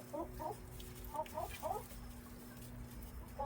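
A hen clucks repeatedly inside a chicken coop to guide a blind hen toward her, giving soft, moderately faint clucks in small clusters against a steady background hum.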